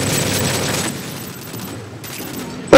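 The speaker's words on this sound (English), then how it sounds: "Oh, grenade, mega grenade, and flashbang." A flashbang grenade goes off in the Modern Warfare 3 multiplayer game, a loud, dense burst of explosive noise with gunfire-like crackle that drops briefly and then returns, ending in a sharp hit.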